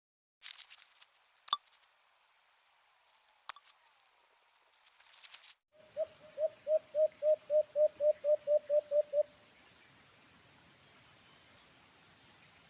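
A decoy bird in a forest trap gives a rapid run of about a dozen evenly spaced calls against steady insect buzzing, after a quieter stretch with a few sharp clicks.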